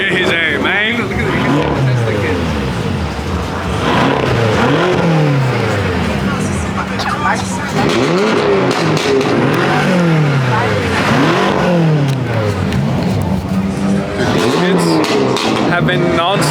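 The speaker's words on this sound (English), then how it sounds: "Have been non-stop revving and doing burnouts for like 30 minutes straight." A 1200-horsepower Ford Mustang S650 at a car meet, engine repeatedly revving up and dropping back in loud sweeping rises over continuous rumble, with people talking and shouting throughout.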